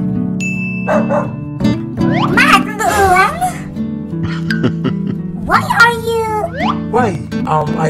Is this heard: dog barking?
yes